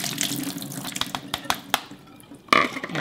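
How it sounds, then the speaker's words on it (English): Soaked soybeans are scrubbed by hand in a bowl of water to loosen their skins, giving close wet swishing and squelching in uneven bursts, with a sharper splash near the end. "So I'm going to use my hand and scrub this."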